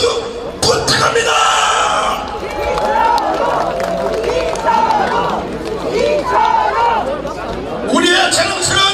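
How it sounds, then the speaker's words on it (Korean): Crowd at a Korean local election campaign rally clapping and cheering in loud bursts, with an amplified speaker's voice and crowd chatter in between. "격려의 박수 부탁합니다."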